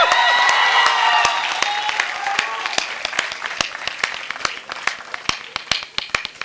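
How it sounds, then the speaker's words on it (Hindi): Audience applause at a Hindi comedy poetry show, starting as dense loud clapping and thinning out into scattered individual claps that fade toward the end. "ये ताली बजाने की बात नहीं थी"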